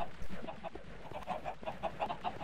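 Chickens in a Minecraft farm's chicken pen cluck in a steady run of short, repeated calls, several birds overlapping at moderate volume with no talk over them.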